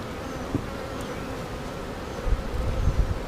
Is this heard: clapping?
no